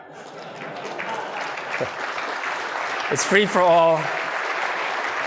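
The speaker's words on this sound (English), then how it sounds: "Biggest applause so far." An audience at the Xilinx XDF 2019 keynote applauds, a steady bed of clapping that swells gradually while a presenter speaks over it.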